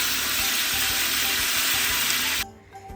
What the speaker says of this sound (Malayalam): വലിയ ജീരകവും ചെറിയ ജീരകവും കൂടി ഒന്ന് പൊട്ടിച്ചെടുക്കാം, മൂപ്പിച്ചെടുക്കാം.